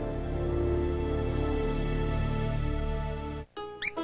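Quilted Northern quilted toilet tissue gives a few quick, high squeaks right after a stretch of background music cuts out. The squeaks are brief and clear.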